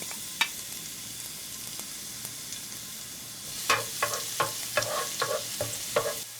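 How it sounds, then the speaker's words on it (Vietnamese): Garlic sizzling in hot cooking oil in a pan, a soft steady crackle with a cluster of sharper stirring clicks and spatters toward the end. "Đợi cho dầu nóng thì mình cho tỏi vào phi thơm nè."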